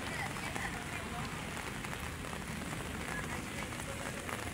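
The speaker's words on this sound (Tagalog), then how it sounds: "Maulan ang ating Sabado" Steady rain falling outdoors at Manila Bay, a continuous broadband hiss of drops on surfaces with no let-up, fairly loud and close, with faint background voices mixed in.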